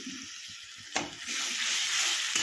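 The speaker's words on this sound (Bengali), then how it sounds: "আর এইবার যে আমি টমেটো আর পেঁয়াজের পেস্টটা করে রেখেছিলাম দিয়ে দেবো।" Tomato and onion paste tipped into a hot pan for chicken patiala, bursting into a loud, steady sizzle after a brief clatter, close and alone.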